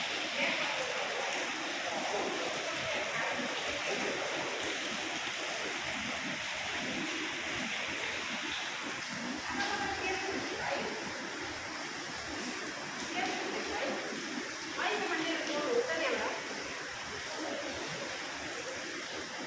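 Water falls and splashes inside Gupteshwor Mahadev cave, a constant broad rushing hiss that fills the whole stretch and echoes steadily, with no clear voices standing out.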